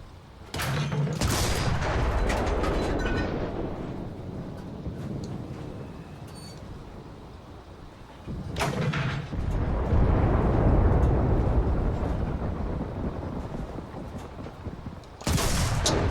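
Gunfire in the World War II shooter game Enlisted, with several loud bursts of rapid shots separated by a rumbling, roaring battle backdrop, the firing close and harsh.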